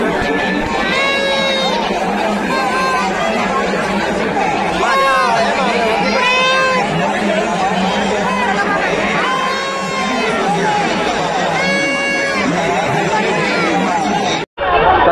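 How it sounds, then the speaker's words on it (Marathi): A huge crowd at a Bhairavnath temple village fair near Pune, a dense, loud babble of many voices with shouts and children's cries rising above the steady hubbub throughout. "प्रचंड गर्दी आहे यात्रेमध्ये, खूप गर्दी आहे मित्रांनो."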